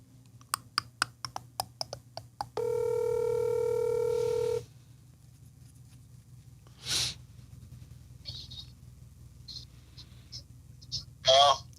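A phone call goes out: rapid dialing beeps, then a long steady ringback tone, followed by quieter handling noise and a couple of bursts of muffled voices near the end.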